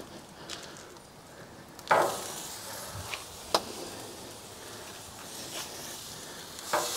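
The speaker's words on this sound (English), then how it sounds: "start searing this baby right over those hot coals" Tri-tip searing right over hot coals on a Workhorse Pits 1975 grill, a steady low sizzle running throughout with a few sharp crackles and pops, moderately close and with no talking.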